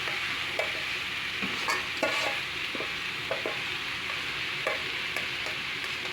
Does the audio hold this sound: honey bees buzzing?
no